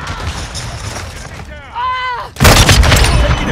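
Gunfire in the multiplayer game Call of Duty: Modern Warfare II comes as loud, dense bursts mixed with game voice lines and whooshing effects, growing heavier near the end.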